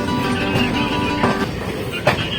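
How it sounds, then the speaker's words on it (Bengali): Steady rumble of the Netaji Express train pulling out of Kurukshetra Junction, with a few soft clacks and squeaks from the carriage, close and fairly loud. "কুরুক্ষেত্র ছেড়ে বেরিয়ে যাচ্ছে ট্রেন।"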